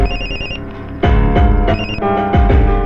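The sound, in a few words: telephone ringing in a movie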